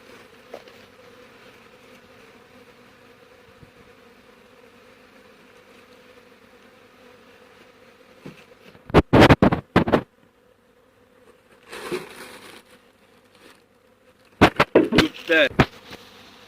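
Honeybees at an apiary during hive treatment make a steady, droning hum that runs throughout, broken by a few short, louder bursts of activity near the end.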